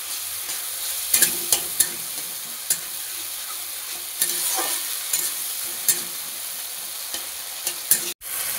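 Turmeric-chilli paste and a large tomato frying in a pan for a vegetarian pumpkin curry, a steady close sizzle broken by a few sharp spatula scrapes and clacks, with no talking.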